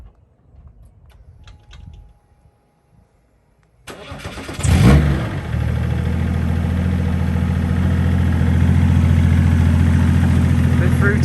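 A Mercedes 300D W124 diesel cranks briefly and then fires into a loud, steady, rattling idle that holds to the end, following a quiet start with faint background sounds.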